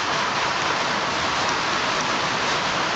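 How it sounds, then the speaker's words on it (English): Steady rain in the Roblox game falls as an even, continuous hiss of drops, moderately loud and unbroken throughout with no voices. "It started raining here"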